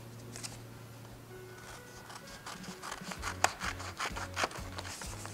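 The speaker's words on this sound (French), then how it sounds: "Je prends mon ciseau et je découpe." Paper cut along a long diagonal with scissors, a series of close, soft snipping and rubbing strokes that grow busier toward the end, alone with faint background music.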